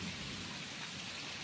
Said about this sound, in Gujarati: 2 કલાક વરસાદ પડે છે આપણે.